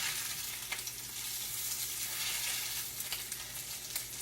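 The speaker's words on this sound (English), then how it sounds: "that's frying kind of slow" Steady crackling sizzle of salmon patties frying in a pan, continuous and close, with a few sharper pops.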